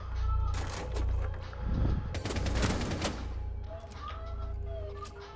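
Gunfire in the tactical shooter game Rainbow Six Siege comes as a few sharp, close bursts of shots over a low game hum, followed by quieter in-game sounds.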